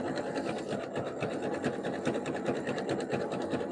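A sewing machine stitches strips of jelly roll fabric into a rug, running with a steady, fast mechanical chatter throughout, close and fairly loud, with no talking.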